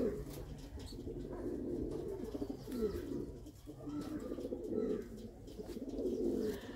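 Pigeons coo in low, repeated rolling phrases, close and steady throughout, with a faint rustle of wings or movement in the background.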